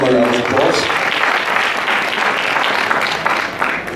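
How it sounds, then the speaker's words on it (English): A round of applause from the audience at a formal civic event, loud steady clapping filling the whole stretch, with a voice briefly over it at the start. "Let's give him a round of applause."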